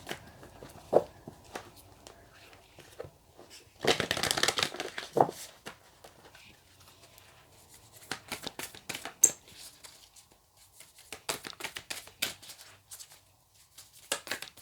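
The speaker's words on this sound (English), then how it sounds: "Let's shuffle them again first" A deck of tarot cards is shuffled in several bursts of crisp riffling and tapping, with quiet pauses between, close and moderately loud.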